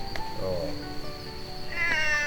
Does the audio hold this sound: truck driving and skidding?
no